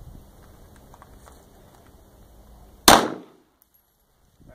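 A single loud handgun shot at shooting practice, one sharp close crack with a brief decaying tail after quiet outdoor background.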